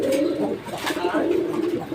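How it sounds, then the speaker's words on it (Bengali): Racing pigeons cooing in a loft, a close, steady run of low throaty coos repeating through the moment without speech over them. "সব জায়গায় এক জোড়া রেসের কবুতর"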